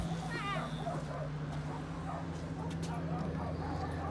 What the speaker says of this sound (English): We have two excited little dogs coming in the car.